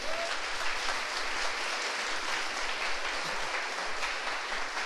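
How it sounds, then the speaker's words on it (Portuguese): A church congregation applauds for several seconds during a sermon on spiritual battle, a steady, dense, continuous clapping that fills the room without any voices rising above it. "Aplauda aí ao Senhor Jesus."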